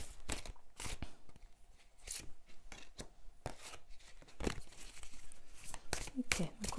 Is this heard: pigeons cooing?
no